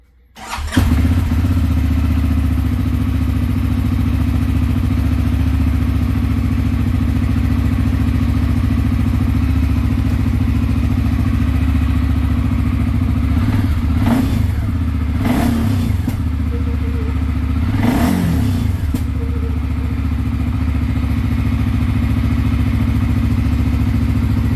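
CFMoto CForce 600 ATV engine cranking and catching right away, then idling steadily and loud up close with a continuous low rumble, with a few brief louder revs or clunks partway through.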